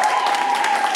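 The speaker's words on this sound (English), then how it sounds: "We have another huge round of applause for Sharon" A steady wash of audience applause at a live song-creation show, dense and even throughout this short burst.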